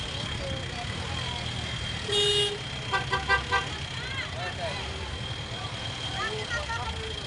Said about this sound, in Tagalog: Traffic. Dito po yan sa Malabon Fish Market.